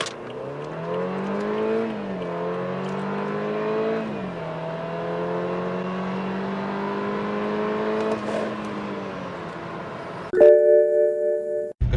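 A BMW F30 car accelerates on a Canadian highway. The engine drone rises and steps through gear changes, loud and steady, then ends in a brief electronic chime.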